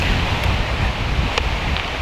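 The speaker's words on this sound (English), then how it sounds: "It's a bit windy. It's stupid windy today" Strong, steady wind buffets the microphone outdoors near an old railway line, a continuous low rumbling roar with faint rustling and no speech.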